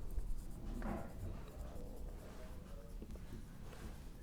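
Chalk or marker scratching across a board during a physics lecture on momentum, quiet strokes with soft shuffling and room noise.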